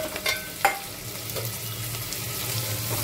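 Onion dropped into hot oil with curry leaves and chillies for veg pulao, a sharp splash near the start settling into a steady close sizzle, with a few faint clinks and no talking.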